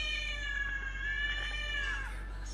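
A house cat lets out one long, drawn-out meow close by, its pitch sliding and wavering before trailing off near the end, over a low steady hum.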